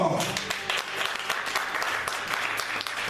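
Congregation clapping in a church service, a dense, steady wash of applause throughout with voices mixed in.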